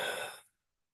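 A single deep, breathy exhale from a person doing qigong breathwork, loud at first and trailing off into silence after about half a second.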